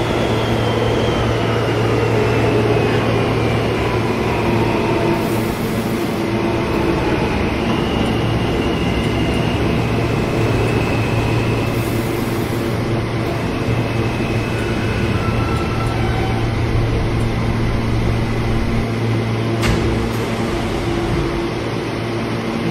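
An R160A subway train on the Crosstown line in Roblox runs steadily, with a continuous loud rumble and motor hum, a faint high whine and occasional squeals, and no voices.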